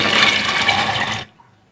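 Water pours and splashes steadily for just over a second, then cuts off, leaving quiet; lentils being rinsed under running water.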